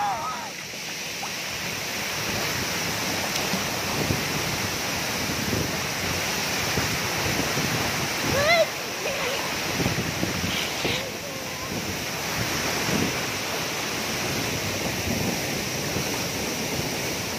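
Water falls into a deep pool at a waterfall, a steady loud broadband rush filling the whole clip with no clear breaks, with faint voices now and then under it.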